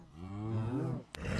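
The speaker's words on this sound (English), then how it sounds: "I've got cows over here." A cow moos in the video game Minecraft, one long low drawn-out call, close and fairly loud, ending in a short click.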